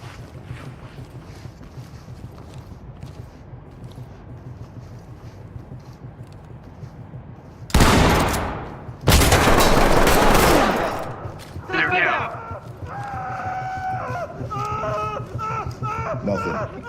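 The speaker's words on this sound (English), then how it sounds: "Blow it with the shotgun." In the Ready or Not video game, two loud close shotgun blasts crack out in quick succession amid background ambience, followed by rattling debris and radio-style voices talking.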